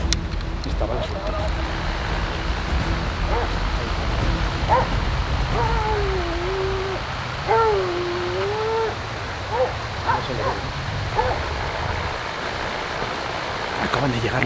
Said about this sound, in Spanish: Acaban de llegar los perros al cochino